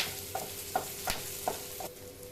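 Lentils dry-roasting in a pan with cumin and dried red chillies for a Turkey berry (sundakkai) chutney, giving a faint, steady sizzle broken by a few soft scraping stirs, quiet and close with no talk.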